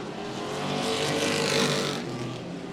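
Pro trucks in the Florida Pro Trucks Challenge Series roar through a turn on a race track, engines swelling into a loud, buzzing pass that peaks and fades over a few seconds.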